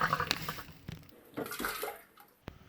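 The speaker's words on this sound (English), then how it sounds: "hopefully you could hear that sound, the air coming in" Air is drawn into frozen RV water lines through an open drain, making a faint, uneven hiss and gurgle near a bathtub, with soft bubbling and a few sharp clicks and drips.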